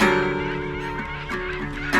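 Loud honking bird calls ring out close by, a few harsh cries starting right away and another burst near the end, over steady outdoor noise.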